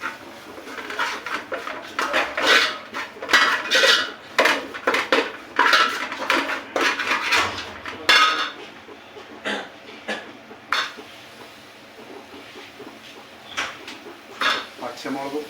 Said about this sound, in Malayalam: എന്നിട്ട് നമുക്ക് ചെറുതായിട്ട് ഇളക്കി കൊടുക്കാം